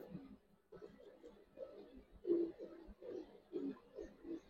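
Giribaz pigeons coo softly nearby in a loft, a series of low, throaty rolling coos repeating in short bursts at a quiet level.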